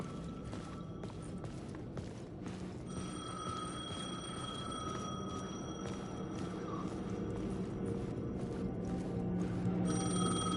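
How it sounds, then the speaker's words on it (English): A payphone rings repeatedly in the Alan Wake video game, a clear electronic bell tone recurring over a steady background rumble, with a few faint footsteps around it. "The payphone was ringing."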